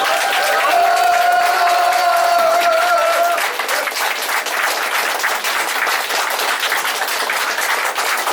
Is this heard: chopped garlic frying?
no